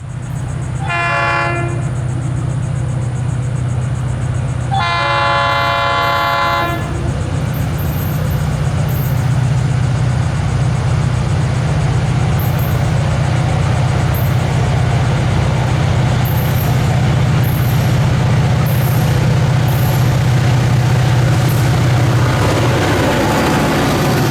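A Florida East Coast Railway freight train rumbles past loudly and steadily, its locomotive horn sounding two long blasts near the start over the heavy rolling drone of the cars.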